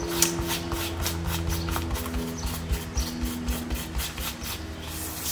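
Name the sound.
rubbing off wet blue glue from paper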